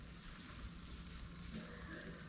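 Apple pies frying in hot grease, a steady, even bubbling sizzle throughout, faint and close, with no voices.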